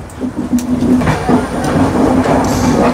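Jagannath Express train with LHB coaches rumbles steadily from inside, a loud continuous rolling drone with a low hum and faint rhythmic clatter.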